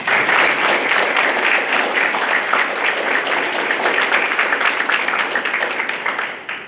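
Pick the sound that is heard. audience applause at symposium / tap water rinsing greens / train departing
audience applause at symposium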